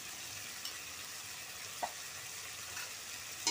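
Ground spices with turmeric and a little salt cook in a pan for a Bengali spinach and bori curry, giving a faint, steady sizzle with a few soft clicks and stirring scrapes.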